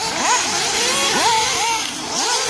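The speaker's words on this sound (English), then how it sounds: "it sounds like a muffler has came off of one of the cars." A race car running with its muffler off roars past on a track during a race. Loud, raw engine sweeps rise and fall as cars pass close by.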